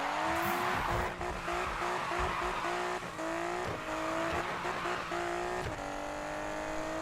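A Nissan Skyline R32 with a grip build drifting in Need for Speed 2015, engine droning steadily as tires squeal in long sustained screeches, with gear-shift dips and revs rising and falling throughout.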